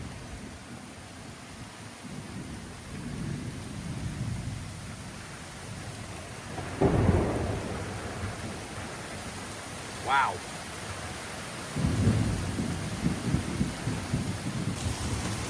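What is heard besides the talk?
thunderstorm with thunder and rain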